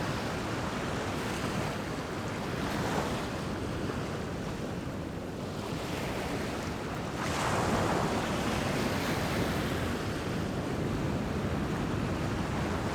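Ocean waves and surf breaking at Desert Point during a 2.5-metre swell: a continuous loud roar of rushing water that swells and builds as sets crash, with wind noise across the microphone and no voices.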